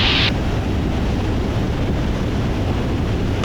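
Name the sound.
wind during Cessna 172 landing at Maui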